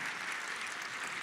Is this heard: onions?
no